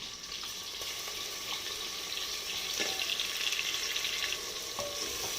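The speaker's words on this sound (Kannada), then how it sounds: "ಇದು ಚೆನ್ನಾಗಿ ಫ್ರೈ ಆದ ನಂತರ ರುಬ್ಬಿಟ್ಕೊಂಡಿರೋ ಮಸಾಲಾನ ಹಾಕ್ತಿದ್ದೀನಿ." Ground masala sizzles in hot oil in a pan while cooking vegetable pulao, a steady close frying hiss with occasional stirring scrapes and crackles and no talking.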